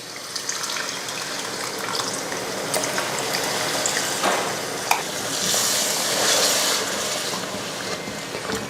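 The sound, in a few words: tamarind water poured into frying anchovy curry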